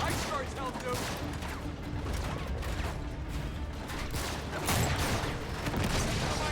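Gunfire in Uncharted 3: Drake's Deception, a dense continuous fusillade of shots and bursts, fills the game soundscape steadily and fairly loud, with no clear gaps between shots.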